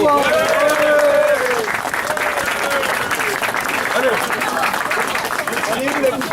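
Audience at a mayors' speech and reception under a marquee in Fouras applauds heartily, a thick sustained wash of clapping with excited voices and cheers mixed in, loud from start to finish.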